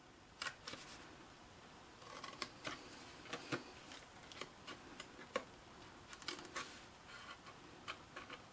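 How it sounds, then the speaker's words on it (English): Scissors cutting small rectangle shapes off cardstock tabs for a pinwheel box, a quiet series of crisp snips and clicks at irregular intervals, close and alone. "you're just going to cut those off"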